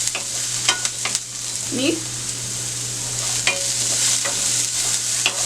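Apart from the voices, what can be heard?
onion with cumin, mustard seeds and curry leaves frying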